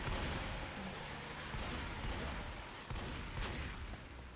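Gunfire in the Left 4 Dead 2 video game in versus mode, continuous dense rattling shots and booms at low level, no talk.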